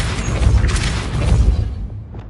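Depulso spell cast in Hogwarts Legacy, a loud, dense, booming blast that swells and then fades into a brief tail.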